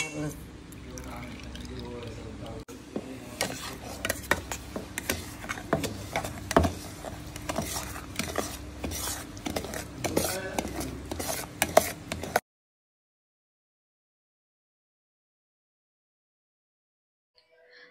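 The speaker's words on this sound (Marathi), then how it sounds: "रवा थंड आणि गुळाचं पाणी थंड झालेलं आहे। आता आपण मिसळून घ्यायचं।" A spoon stirs semolina into cooled jaggery water in a bowl for ravyachi sanjori, with steady wet scraping and clinking that stops abruptly into silence. Someone speaks over the stirring.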